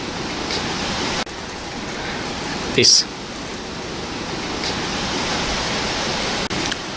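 Engine oil draining from a Hyundai i sump into a pan, a steady hissing pour that runs unbroken from start to end, close and fairly loud, with one brief clink partway through.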